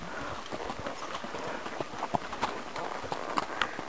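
A ridden horse named Manny, under a new saddle, walking a trail with steady clip-clop hoofbeats against a continuous outdoor background.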